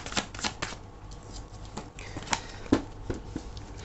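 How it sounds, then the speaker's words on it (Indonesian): Tarot cards are shuffled and drawn during a love reading: quick papery riffling and soft flicks in a close, quiet room, with irregular taps and slides and no voices. "Oke, ini kita akan ambil 5 kartu lagi."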